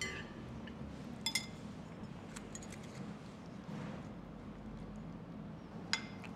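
Dishes and cutlery clink softly as food is served onto plates at a table in a restaurant, a few brief light chinks over a steady low room murmur.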